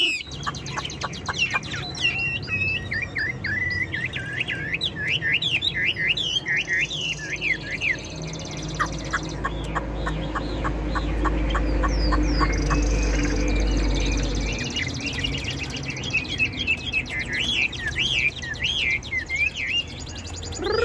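A caged songbird sings busy, rapid trills and chirps close by, its phrases repeating steadily over a low hum, with a second bird's calls joining and a rumble swelling in the middle.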